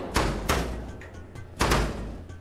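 Heavy doors thud and slam in Garten of BanBan 7, two quick knocks followed after a pause by a louder bang, each ringing briefly in an empty interior with no talking.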